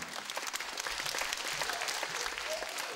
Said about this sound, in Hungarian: Köszönjük a tapsikát, nagyon jó volt!